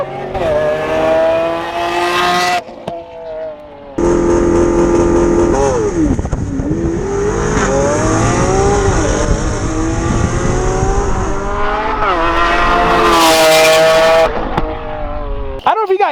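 A C8 Corvette races a Lamborghini Aventador around a racetrack, engines screaming through rising and falling revs with sharp shifts and tire squeal, loud and close, with a voice talking over the engines at times.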